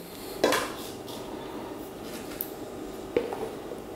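A spoon scoops BSN True Mass gainer powder into a plastic shaker, giving a few distinct clinks and scrapes against a quiet indoor background.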